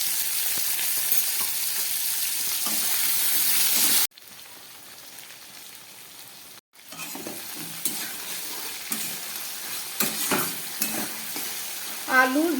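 Potato, ridge gourd and vegetable stalks fry in a pan with a steady loud sizzle, broken by a couple of brief pauses, then softer crackling with occasional stirring scrapes near the end.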